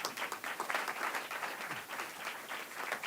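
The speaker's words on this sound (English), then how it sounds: "Give him a round of applause." An audience applauds at a talk on food as medicine, a short burst of fairly faint, dense clapping heard from a distance that holds steady throughout.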